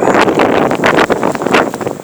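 Blizzard wind blasting straight into the microphone, loud, rough roaring gusts that pulse and buffet continuously with no pause.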